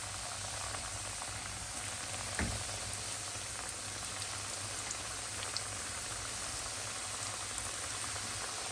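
Tourton pastries fry in about three centimeters of hot sunflower oil, giving a steady, faint bubbling sizzle with a few small pops and no voices.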